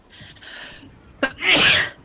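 A single loud sneeze bursts out near the microphone with a sharp intake then a strong spray, while background chatter and game sound continue during a Left 4 Dead session.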